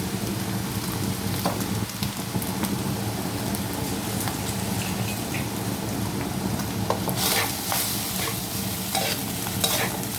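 Shrimp stir-fried in a pan for Thai shrimp fried rice, giving a steady loud sizzle with scraping stirs throughout and brighter spatter bursts toward the end, no talking.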